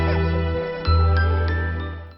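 A mobile phone ringtone plays in a birthday party scene, a bright chiming jingle of tinkling notes repeating over about two seconds, with a low tone underneath.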